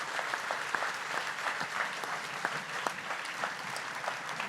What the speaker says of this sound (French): un tonnerre d'applaudissements pour Jean-Paul